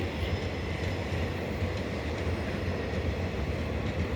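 A steady, dense rumble of a passenger train rolling nearby at Harangul station, Latur, continuous and fairly loud, with no talking.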